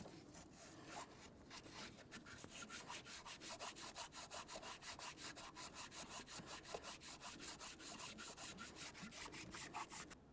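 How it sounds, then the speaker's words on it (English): Rapid, rhythmic back-and-forth strokes of new fine sandpaper on a sanding block over a metal exhaust manifold surface of a 2005-2010 Chevrolet Cobalt, a fine, hissing scrape, steady and close, continuing without pause and no voices. "It's a good idea to use brand new sandpaper, and of course have a nice sanding block"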